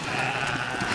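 An unshorn ram bleats loudly and continuously while being caught for shearing on a farm, a steady close cry with no pauses over one second.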